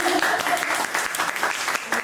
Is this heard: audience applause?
yes